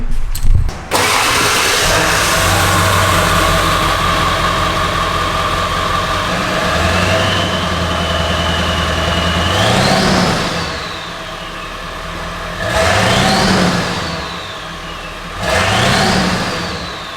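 A Ford car engine cranks and catches, then settles into a loud, steady idle, with a few rising revs toward the end.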